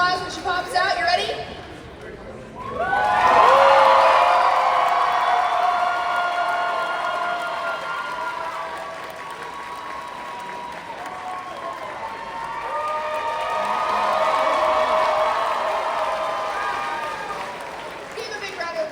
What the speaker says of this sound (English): Give her a big round of applause when she pops out.